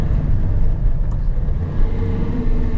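A car climbs a steep uphill road along a cliffside, its engine holding a heavy, steady low rumble under strain, loud and close from inside the vehicle with no voices.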